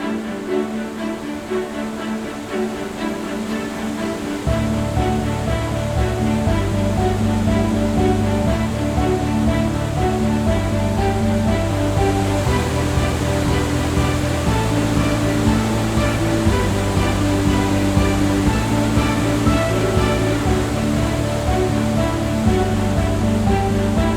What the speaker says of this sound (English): Waterfalls draw me like a magnet.